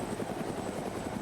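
A Huey helicopter in Arma 3 flies low, its steady rotor thrum and turbine whine held evenly and fairly loud throughout, with no voices.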